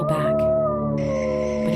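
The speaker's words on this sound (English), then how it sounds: "I kept on howling as a call for help, and I could hear the other wolves howl back." A wolf-like howl, long and sustained with steady pitched tones, holding loud and close for the full length under a dramatic werewolf transformation scene.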